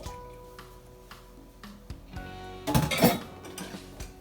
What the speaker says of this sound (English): we're gonna whisk it for about a minute to 2 minutes